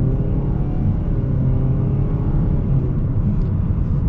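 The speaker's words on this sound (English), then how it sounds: "We're going to be getting our acceleration here with the Sentra." A 2022 Nissan Sentra SR with a CVT accelerates, giving a loud, steady low engine drone with road rumble that holds evenly throughout, heard from inside the cabin.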